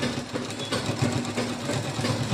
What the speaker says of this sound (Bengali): এভাবে আমি হাতাতে সেলাই দেব।